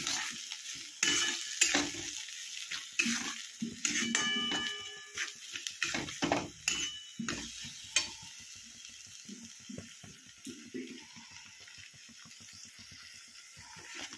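A tomato and onion paste fries slowly over low heat for chicken patiala, with a quiet sizzle under repeated spoon scrapes and clinks against the pan that come thick early on and then thin out.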